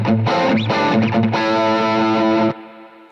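An electric guitar plays distorted chords and a few bends, then a final chord rings out with a lingering reverb tail.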